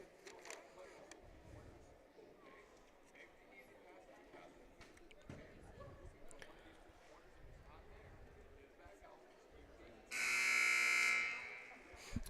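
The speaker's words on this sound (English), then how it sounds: "There's the second buzzer" Crowd murmur and a voice talking carry on at a distance in a high school girls' basketball gym, then a loud, harsh electronic buzzer blares for about a second before cutting off.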